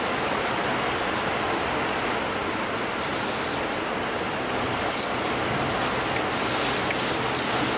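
Heavy rain pours down outside a garage in Florida, a dense, steady hiss of falling water that stays loud and unbroken throughout, with no voices over it.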